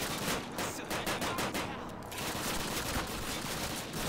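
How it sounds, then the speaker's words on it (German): Rapid, dense volleys of gunfire in a Call of Duty game, sharp cracks repeating close together almost without pause, loud and steady across the stretch, with brief talk in German underneath. "Ich versuche gerade mal mit der Pistole hier noch ein bisschen zu schießen"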